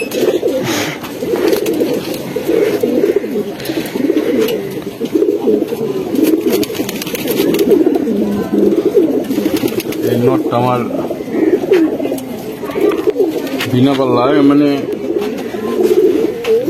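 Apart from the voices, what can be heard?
pigeons cooing in a loft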